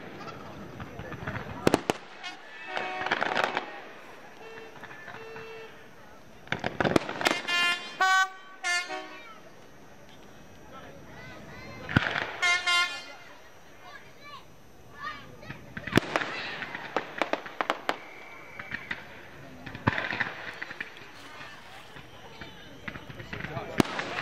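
Fireworks going off at a regatta evening display, sharp bursts and crackles arriving in clusters with gaps between, fairly near and loud, while people talk over them throughout.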